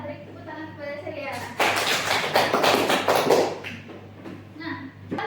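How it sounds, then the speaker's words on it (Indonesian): A classroom clapping for a student, a short burst of many hands in the middle lasting about two seconds, framed by a teacher's talk before and after. "Beri tepuk tangan kepada Surya."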